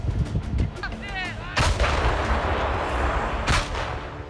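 Heavy artillery booms out twice while firing on a target in Ukraine, each a loud deep blast with a rolling echo, separated by a couple of seconds, over a rumbling outdoor background.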